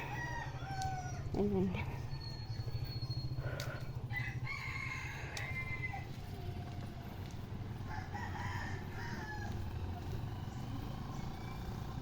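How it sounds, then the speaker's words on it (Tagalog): A rooster crows and chickens cluck in a busy outdoor setting, with a steady low hum and a brief spoken word over the birds. "Ang hawak niya ay manok."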